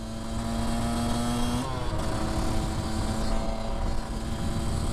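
A Yamaha YZ 125cc two-stroke motocross bike engine producing 41 hp drones steadily at high pitch, with a sharp shift in tone partway through, heard at moderate distance with no talking.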